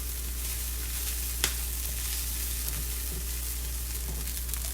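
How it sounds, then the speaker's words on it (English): Corn kernels grilling in a hot pan with a steady sizzle, one sharp pop standing out early and small ticks scattered through, close and continuous with no talking. "It started to pop out the pan like popcorn."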